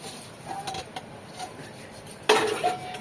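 Metal pots and a wok clank and scrape during washing, with a louder cluster of knocks and rattles near the end.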